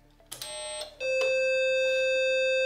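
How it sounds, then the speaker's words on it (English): A BBC Micro 8-bit computer with a second processor fitted gives a short startup beep, then a loud, steady, continuous tone that holds to the end with no voices. "We just get a continuous second beep at startup"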